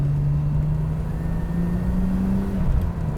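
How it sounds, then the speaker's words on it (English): A Venturi Atlantique 300 Turbo accelerating under turbo boost on a road: a steady, loud engine drone holds a rising pitch for about two and a half seconds, then dips briefly as revs fall near the end. "Oh, that turbo boost, it's just addictive."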